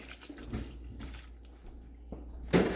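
Tap water runs briefly into a sink while shepherd's pie is being cooked in a kitchen, a soft faint trickle with a few splashes and a louder gush near the end.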